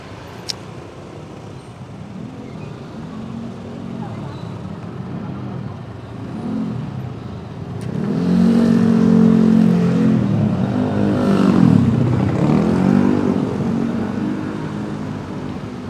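Car and motorbike engines idle and rev in a traffic jam on the alternative road to Dieng via Tambi, a steady roadway rumble that swells louder midway as vehicles pass close.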